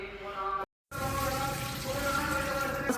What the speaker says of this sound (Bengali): আমি কলা পাতাগুলোকে একটু গরম জলে চুবিয়ে নিচ্ছি যাতে ফেটে না যায়।